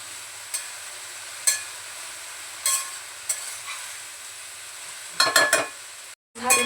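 Vegetables sauté in oil and salt in a full kadhai, a soft steady sizzle punctuated by scattered spatula scrapes and a quick cluster of stirring clatters near the end.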